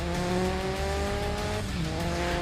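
In the racing game GRID Legends, a race car brakes hard into a curve, its engine pitch falling through downshifts while tires squeal, loud and continuous.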